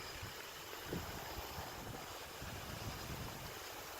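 Wind blows on a windy night outdoors, a steady faint rushing roar with low microphone buffeting and no talk.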